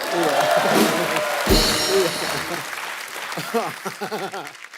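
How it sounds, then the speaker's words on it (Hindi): Applause from the studio audience of The Kapil Sharma Show, a Hindi comedy talk show, bursts out at the start under loud voices, then fades quickly as people talk and chuckle. "जोरदार तालियां।"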